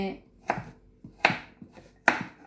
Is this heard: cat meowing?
no